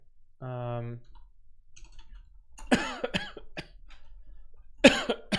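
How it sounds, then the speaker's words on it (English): A short hum is followed by several sharp coughs close to the microphone, spaced out with quiet gaps and light clicking between them. "I keep coughing in the microphone"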